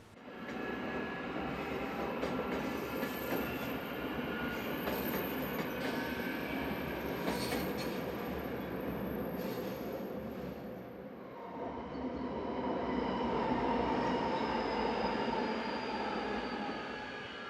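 KiwiRail DSG class diesel locomotive 3155 hauling train 482 rumbles past close by in Wellington, a steady heavy engine drone with wheel squeal and rail noise throughout, shifting in tone as the consist rolls by.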